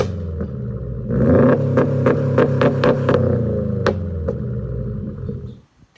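A Subaru STI fitted with a used Nameless aftermarket muffler barks into a sharp rev, holding a deep throbbing exhaust note for a few seconds with crisp pulses before dropping away and fading out.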